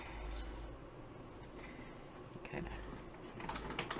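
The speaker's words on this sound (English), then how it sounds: "So I'm just going to use my scissors real quick." Scissors trim the edge of a laminate sheet on a craft project, giving soft, scratchy snips and rubbing cuts close by, with no talking.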